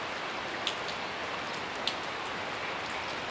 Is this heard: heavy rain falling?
yes